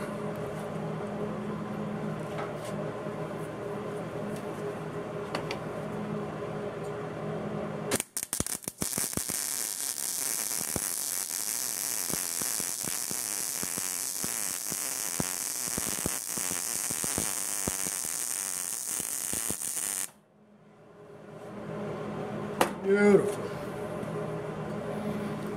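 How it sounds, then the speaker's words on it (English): A solar-powered welder fuses a piece of metal outdoors, heard as a loud, steady crackling hiss that runs unbroken for about twelve seconds, then cuts off sharply into quieter background noise. "I'm going to weld up this piece of metal out here with power from the sun"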